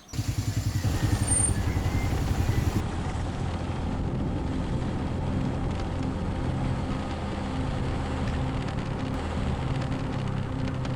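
Motorbike cruising along a typical country road in Bali, a continuous engine drone with wind rumble, steady and close throughout with no speech.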